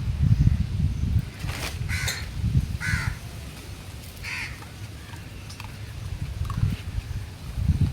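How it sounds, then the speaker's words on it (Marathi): Several crows caw in short, harsh calls from a moderate distance, scattered across a few seconds over a low, rumbling outdoor background where animals are being fed. "हे सगळे आमचे मित्र हे कावळे"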